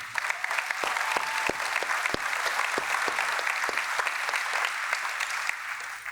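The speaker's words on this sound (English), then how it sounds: "Can we get a big round of applause for the open source community?" An audience at a conference talk breaks into applause, a dense sustained wash of many hands clapping at once, loud and steady for several seconds before tapering slightly.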